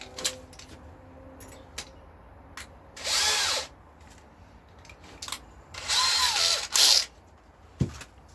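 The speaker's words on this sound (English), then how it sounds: "got a sharp drill now, so I can screw that in there and drill the second one" A power drill whirs in two short bursts as screw holes are bored in a replica K6 telephone box, with clicks and handling knocks in between, close and loud.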